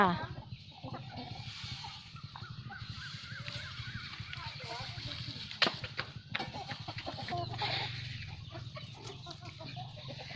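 Fighting cocks at a Thai cultural park cluck and call in an evening outdoor setting, with a scatter of sharp sounds and a constant busy background.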